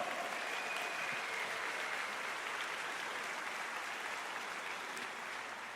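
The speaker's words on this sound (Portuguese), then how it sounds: "você pode aplaudir o Senhor" Church congregation applauding, a dense, sustained wash of many hands clapping at once, steady throughout and gently fading toward the end.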